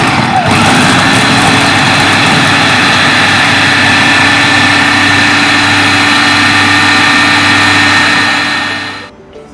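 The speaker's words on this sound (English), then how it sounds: "So that's why we are doing this into a food processor." A food processor whirs loudly and continuously, working cold butter and flour for a peach pie crust, then cuts off abruptly near the end. No one speaks.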